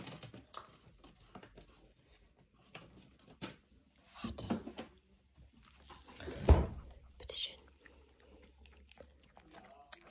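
A dog eating a small piece of cheese, with soft, quick, uneven smacking and chewing sounds at close range, mixed with some handling noises and brief talk from a person nearby.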